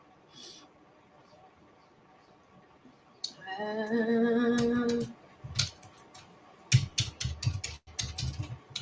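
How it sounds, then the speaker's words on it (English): Computer keyboard typing comes as bursts of quick, crisp key clicks, loudest in the latter half, mixed with a sustained voiced tone and nearby talk. "Oh, you can hear the typing too."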